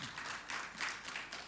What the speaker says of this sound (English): I'm happy you clapped for that